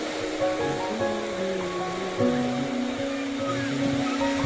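Ocean waves washing in at a Goa beach, a steady broad roar of surf with swells, overlaid by tonal sounds throughout.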